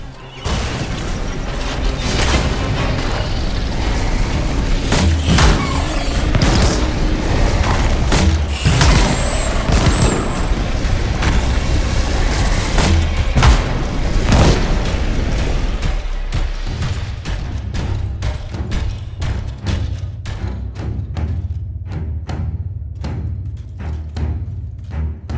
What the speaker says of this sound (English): Let's have Scylla in front with his flamethrower and have you support him with your grenade launcher.